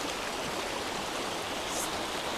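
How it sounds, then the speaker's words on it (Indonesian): River water flowing in a steady, dense rushing wash with no breaks, fairly loud and close, with no voices over it. "air mengalir terlihat cukup keruh"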